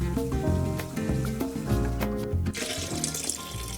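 Water sloshes and swirls in a gold pan as pay dirt is worked, close and continuous with rhythmic splashing and gritty churning.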